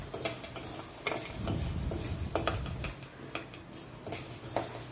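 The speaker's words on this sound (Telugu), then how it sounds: "ఆవాలు చిటపట్టమనే వరకు కూడా వేయించుకోవాలి," Mustard seeds, mixed with some coriander seeds, crackle while dry-roasting in a pan for homemade curry powder: irregular sharp pops and ticks close up over a low, steady sizzle.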